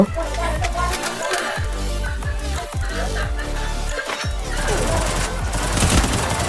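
Rapid bursts of gunfire and headshot hits crackle through a battle royale game firefight against hackers, shots packed densely over a steady bed of game music and effects, loud and continuous throughout.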